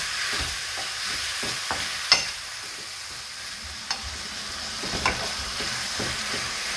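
Garlic frying in a pan with pieces of chicken breast gives a steady sizzle, broken by a few sharp utensil clicks and scrapes from stirring. No one speaks.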